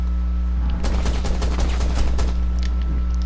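Rapid gunfire bursts crackle in Rainbow Six Siege, a quick string of sharp close shots lasting under two seconds over a steady low game hum, with no talking.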